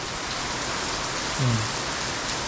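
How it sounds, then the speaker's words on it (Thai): Heavy rain falls steadily at night as a storm arrives, a dense even hiss of drops that continues unbroken, with one brief low thump partway through. "พายุเข้าครับตอนนี้ฝนตกแล้ว"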